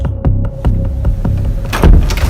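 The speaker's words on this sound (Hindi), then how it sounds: "खुल नहीं रहा दरवाजा। तोड़ दो।" A door being forced open during a police entry into a house, a rapid series of loud thuds and knocks with rattling impacts building toward a final burst of banging, close and alone.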